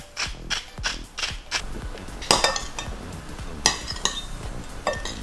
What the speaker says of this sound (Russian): И добавляю заправку в салат